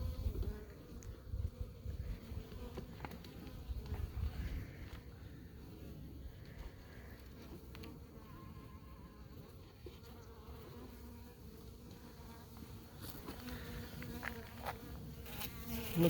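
Honey bees buzzing around an open hive during a honey harvest, a constant low drone of many insects nearby with faint handling knocks and rustles throughout.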